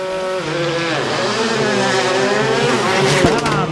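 Skoda Fabia rally car, privately entered, racing on the 24-kilometre Intensier asphalt stage of the final leg at the WRC Rally of France, its engine droning loud and steady with shifting pitch, a sharp burst near the end, under commentary.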